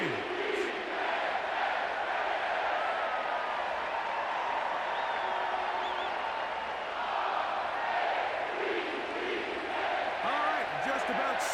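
Stadium crowd in Madden NFL 25 at M&T Bank Stadium in Baltimore, a steady broad roar of cheering voices that holds at a constant level throughout, with no single voice standing out.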